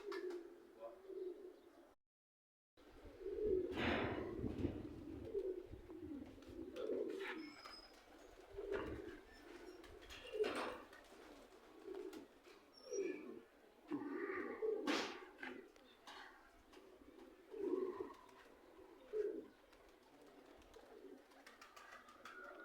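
Pigeons coo softly and repeatedly at a rooftop loft, a steady run of low, rounded calls from nearby birds, faint overall with scattered chirps and a brief voice in the background.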